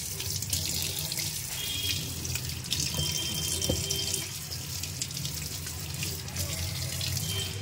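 A kitchen tap runs steadily as vegetables such as green chillies, eggplant, pointed gourd and carrots are washed under it, a continuous splashing stream with faint clinks and distant talk.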